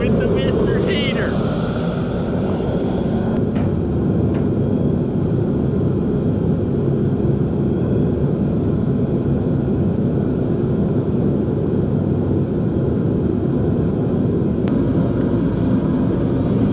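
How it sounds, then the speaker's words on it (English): A Mr. Heater propane space heater runs in a garage with a steady, loud roar like a plane passing overhead, continuous throughout, with a few faint clinks and a voice briefly heard early on. "I apologize if it sounds like there's continuously an airplane flying over, but we had to bring in some backup with the Mr. Heater"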